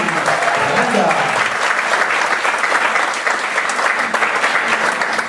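A dinner audience gives a steady, loud round of applause for the evening's chef. The dense clapping runs throughout with little change, and a few voices can be heard near the start.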